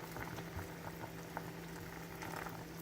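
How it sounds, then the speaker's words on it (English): Water bubbles at a gentle boil in a pot of cooking oxtail, with soft continuous gurgling and popping, quiet and close. "add a little bit more boiling water"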